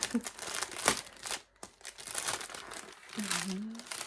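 Crinkly plastic packaging crackles and rustles in close bursts while being handled during an unboxing of cross-stitch supplies, with a person talking over it.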